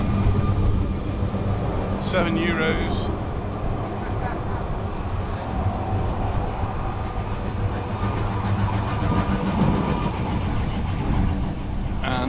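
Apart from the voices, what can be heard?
tram arriving at Puerto de Soller, Mallorca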